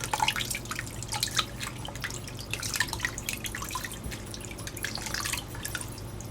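Water trickles and splashes in a small bathtub while a silicone baby doll's hair is wetted, a close, continuous patter of drips and pouring with no talking.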